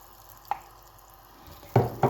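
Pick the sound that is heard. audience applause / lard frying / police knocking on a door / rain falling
lard frying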